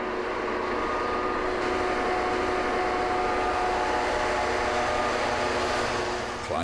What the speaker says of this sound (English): even today's Class 66 locomotives visibly struggle with loaded trains on the longer uphill stretches